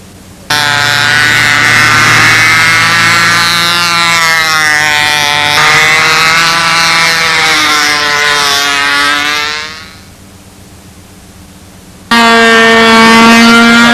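Model airplane glow engine with a tuned muffler, running loud and close at a high, steady buzzing pitch that wavers slightly, cuts out to quiet around the tenth second, then restarts and roars again.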